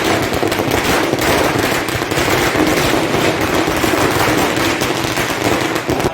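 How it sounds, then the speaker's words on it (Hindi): Firecrackers set off in celebration of a municipal election win, a loud, continuous barrage of rapid crackling bursts that rattles on without pause, with no talk over it. "अभी आपने जो आतिशबाजी देखी है,"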